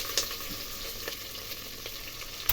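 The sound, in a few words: onions and green chillies frying in pan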